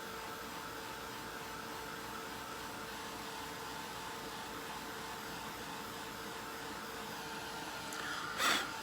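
A handheld craft dryer or heat tool drying a Chalk Couture craft project runs with a steady, continuous whirring hum, staying constant at close range, with a brief louder bump near the end.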